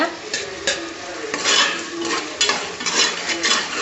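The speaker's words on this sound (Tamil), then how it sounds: "தக்காளி போட்டு நல்லா வதக்கிக்கோங்க" Chopped tomatoes sauté in a hot pan, a close sizzle broken by repeated clinks and scrapes of a spoon stirring against the metal, no talking.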